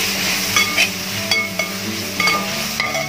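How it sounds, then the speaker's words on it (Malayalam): Sliced onions and green chillies sauté in a pan for chicken biryani, giving a continuous close sizzle with soft taps and stirs of a spoon scattered through it. "നന്നായിട്ടൊന്ന് വഴറ്റിയെടുക്കാം."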